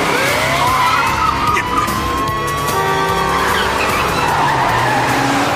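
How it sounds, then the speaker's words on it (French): A red sports coupe is chased by police. Its tires skid and squeal loudly and close by for several seconds, with engines roaring underneath. "nous prenons en chasse un coupé sport rouge"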